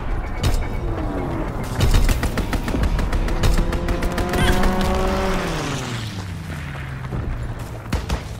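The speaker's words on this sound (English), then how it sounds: "Enemy strafing run inbound." Rapid machine-gun bursts from an enemy strafing run in the World War II shooter Call of Duty: WWII. An aircraft engine roars loudly past, its pitch sliding downward, over constant heavy battlefield noise.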